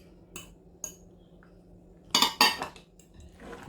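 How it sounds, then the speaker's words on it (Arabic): A spoon clinks against a dish while a broccoli casserole mixture with cubed cheese is stirred: a few light isolated taps, then a short burst of louder scraping and clinking near the end. "ونمزج الخليط تاعنا."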